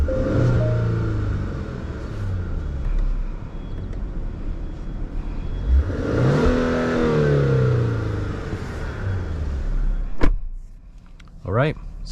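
A 2023 Genesis G80 3.5T twin-turbo V6 on a test drive, with a steady engine drone and road rumble, a rising acceleration sweep, and clicks and ticks near the end as someone talks over it.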